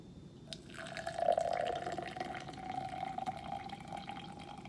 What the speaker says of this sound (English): So I'm not going to put that much water in there.